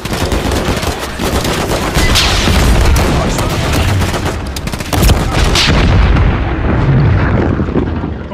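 Heavy gunfire in the video game Call of Duty Modern Warfare 3, loud continuous bursts of rifle and machine-gun shots with booming impacts, sustained throughout.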